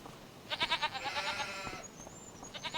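A goat in the farming game Farm Restorer bleats in a series of short, wavering calls, loud and close, followed by a brief pause and another quick bleat near the end.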